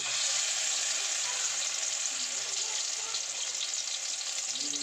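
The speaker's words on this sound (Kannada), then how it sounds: "ಇವಾಗ ಎಣ್ಣೆ ಕಾದಿದೆ ಇವಾಗ ಒಂದೊಂದಾಗೆ ಹಾಕ್ಕೊಳ್ಳೋಣ" Brinjals going into hot oil for Uttar Karnataka ennegayi palya, producing a loud, steady, close hissing sizzle that holds evenly throughout with no pauses.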